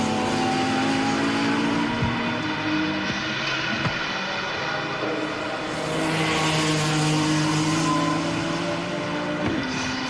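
A classic sports car race car crossing the line at Castle Combe circuit, engine roar loud and sustained with droning tones that shift in pitch as cars pass close by.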